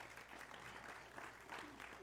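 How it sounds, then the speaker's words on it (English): A congregation at a Mission Sunday church service claps in steady, broadband applause, heard faint and somewhat distant throughout, with no clear voices over it. "Y'all give them a round of applause again."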